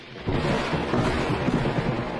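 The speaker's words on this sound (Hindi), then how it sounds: "अरे जोर से बिजली कड़कने की आवाज आती है" Loud thunder crack in a Hindi cartoon story, a sudden heavy boom that swells after a brief quiet onset and rumbles on steadily with a dense, rain-like wash, no voices over it.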